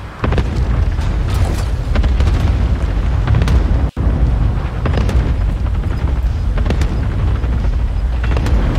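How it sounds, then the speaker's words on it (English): Cluster strike explosions in the Call of Duty Warzone video game, a dense, close barrage of heavy booms that rumbles almost without a break, cut briefly by one short gap. "Enemy cluster strike."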